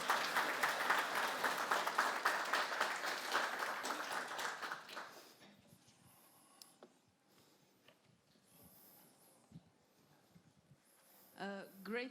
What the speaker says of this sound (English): slow clap first.